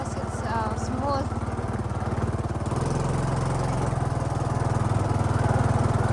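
Small engine of an XRM motorcycle running steadily at low speed on a rocky path, a constant low putter that grows slightly louder toward the end, with faint talk and wind in the background.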